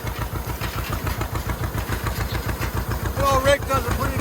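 A tractor pulling an old hay rake and baler, its engine chugging in a steady low rhythmic putter at close range, with a brief rise in pitch near the end.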